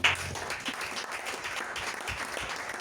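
A church congregation breaks into applause during a worship celebration, a steady crowd clapping close and lively throughout without talk.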